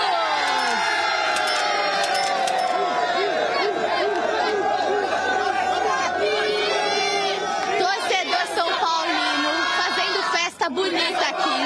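A huge São Paulo football crowd packs the stadium before the LDU match, a loud, dense roar of chanting and singing voices that fills the space continuously for the whole stretch.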